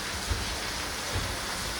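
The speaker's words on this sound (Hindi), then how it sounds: "वहाँ पे बारिश हो रही है," Steady rain hisses continuously in the background, with a couple of soft low thumps and no voices.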